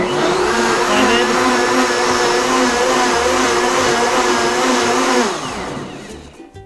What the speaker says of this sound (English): we're just gonna put this in the blender and mix it up real quick